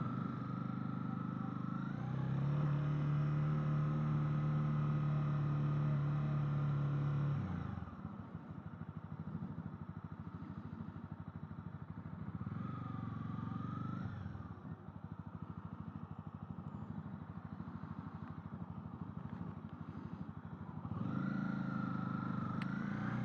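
A Honda CB300R 300cc motorcycle is ridden, its engine droning steadily with a sustained tone, then easing off and rising again through gear changes, with wind rush throughout.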